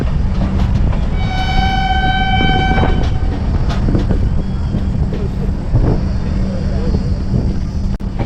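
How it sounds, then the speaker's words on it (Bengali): Train pulling out of Sultanpur Junction, a close, loud rolling rumble of carriages with a short horn toot early on and faint voices in the background. "ট্রেনটা সুলতানপুর জংশনে 2 মিনিট দাঁড়ানোর কথা, আর ঠিক 2 মিনিটই দাঁড়ালো। ট্রেন ছাড়লো ঠিক 2 মিনিট পর।"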